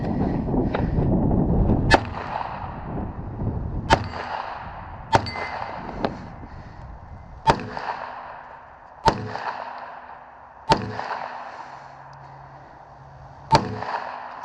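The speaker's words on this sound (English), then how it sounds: "especially when I'm shooting the handgun, but you see it with the rifle as well" Handgun and rifle fire at an outdoor shooting range, a series of about eight sharp loud shots spaced one to two seconds apart, each with a ringing metallic clang and short echo.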